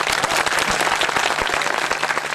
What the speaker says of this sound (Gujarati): એની માટે એક તાળી પાડી